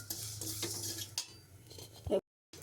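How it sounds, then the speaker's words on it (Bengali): Cumin and whole spices dry-roast in a pan, heard as faint scraping and stirring with light metallic clinks of utensil on pan, ending in a short louder clatter. "শুকনো মশলা গুঁড়া করার জন্য একটু জিরে দিলাম, একটু ফোড়ন দিলাম। এটা মশলাটা ফোড়ন ভাজছি।"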